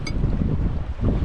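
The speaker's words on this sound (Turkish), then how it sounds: "Bak rüzgar çıktı şimdi." Wind gusts across an open outdoor cooking spot with a scenic view, a brief, steady rushing roar buffeting the microphone.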